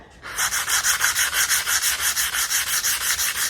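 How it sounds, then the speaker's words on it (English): Steady back-and-forth rasping of 120-grit sandpaper on a block over wood, about six strokes per second in an even rhythm, close and fairly loud, with no voices. "So now what we need to do is just give it a light sand."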